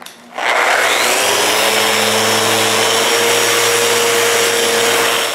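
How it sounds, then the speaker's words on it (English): A power sander whirs steadily against a wooden piece during final sanding, starting abruptly and holding a loud, continuous grinding drone throughout. "When it's done, I make the final sanding."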